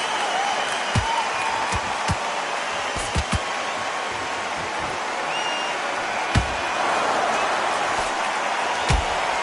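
Arena crowd in the boxing video game Undisputed keeps up a steady, broad murmur for the whole stretch, with scattered sharp thumps and claps cutting through now and then.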